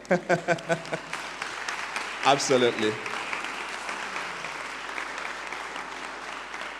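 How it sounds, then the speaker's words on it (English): Applause at a business school graduation ceremony, a sustained wash of clapping from the audience, with voices speaking briefly over it near the start and again around the middle. "I invite an applause for the families."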